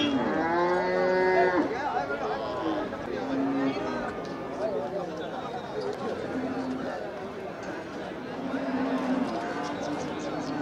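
Cattle low and moo repeatedly at the Melapalayam cattle market, with long drawn calls from several animals. Steady crowd chatter and talking from people nearby run underneath throughout.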